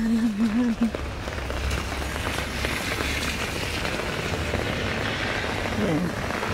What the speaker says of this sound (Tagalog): Ulan, ulan na naman.